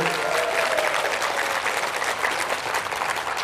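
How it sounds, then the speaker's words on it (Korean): Applause from an audience at a comic talk show, a dense, even wash of many people clapping at a moderate distance that holds steady throughout, with no voices over it. "지금 박수 치면서도 약간 의아해 하면서 박수 친 사람들 몇 사람 있습니다."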